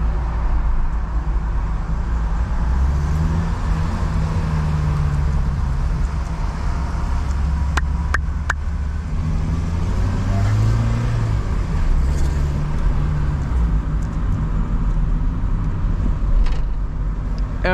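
A 2000 Peugeot 306 SW with a 1.8 16v 112 hp XU7JP4 engine is heard from inside while driving, a loud, constant engine and road drone whose pitch rises and falls with each acceleration.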